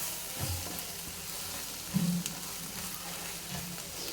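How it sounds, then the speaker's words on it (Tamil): Coriander and turmeric powder stir-fry in hot oil for a Tamil kuzhambu, giving a soft, steady sizzle with a brief scrape of stirring partway through, close and quiet, with no voices. "மல்லித்தூள், மஞ்சள்தூள் எல்லாம் பார்த்திங்கன்னா இந்த ஆயிலில் வந்து ஒரு பரட்டி விட்டுருங்க"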